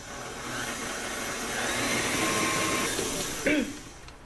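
A stand mixer running at medium speed, mixing flour, salt and yeast for soft pretzel dough, gives a steady motor whir and hiss that holds for a few seconds before a short clunk near the end.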